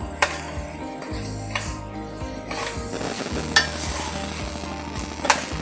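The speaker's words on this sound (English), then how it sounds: "So now that we have this sauteed, I'm just making sure that it's mixed together nice and well" Puerto Rican–style yellow brown rice with chicken is sautéed and stirred in a pan, a moderate frying sizzle with repeated scraping strokes and a few sharp spoon clanks against the pan.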